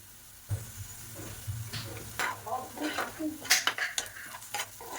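Onions frying in a pan with green chillies and turmeric, stirred with a utensil so the spoon scrapes and clinks against the metal over a soft sizzle, close up and moderately loud with no one speaking.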